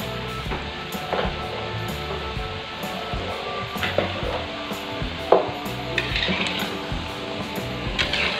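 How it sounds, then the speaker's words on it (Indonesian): Mini banana molen pastries frying in hot oil, a steady crackling sizzle with occasional clinks and scrapes of a utensil stirring in the pan, close and fairly loud, no talking. "sekarang aku mau goreng lagi pisang molennya sampai selesai."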